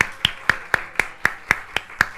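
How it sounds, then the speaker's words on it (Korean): A church congregation claps in welcome during a Sunday service, steady and evenly spaced, about four claps per second in unison, crisp and fairly close with no talking. "우리 박수 한번 환영하는 걸로 하겠습니다"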